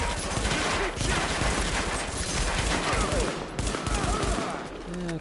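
Heavy gunfire in The Division, a dense, loud fusillade of rapid shots and bursts rattling close by without pause, with voices talking briefly over the shooting.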